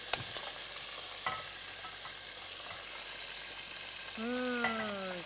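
Soya supreme sauce fries in a hot pan with about a tablespoon of oil, a soft steady sizzle with a few sharp clicks, then a short rising whine near the end.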